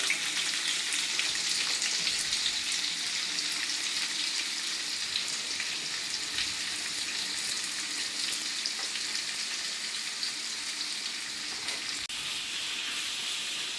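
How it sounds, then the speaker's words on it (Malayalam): Chopped onions, four of them, fry in about 100 g of hot coconut oil for a chicken dum biryani, giving a steady, close hiss and sizzle that barely changes over the whole stretch, with no talking. "വെളിച്ചെണ്ണ ഒന്ന് ചൂടായതിന് ശേഷം ഒരു 4 സവാള അരിഞ്ഞിട്ട്"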